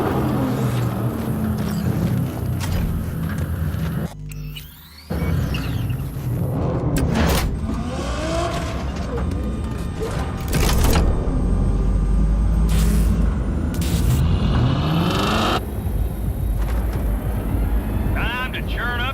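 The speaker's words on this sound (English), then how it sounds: "Start your engines, folks." Convoy of cars in the Cyberpunk video game starting up and driving off across a desert, a heavy rumbling engine roar with passing whooshes, running under spoken dialogue and a brief drop-out near the start.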